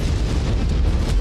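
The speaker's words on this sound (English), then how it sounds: "ammo explosion" Ammo explosion in the video game MechWarrior 5 Mercenaries, a loud, dense, sustained blast with heavy low rumble filling the whole moment, with no voices over it.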